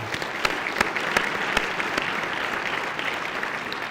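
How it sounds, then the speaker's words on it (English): Audience at the 2022 FCS National Awards show gives a round of applause: dense, even clapping with a few sharper claps standing out, filling the hall throughout without any talk. "Let's have another round of applause for Lindsey Scott Jr., the award winner"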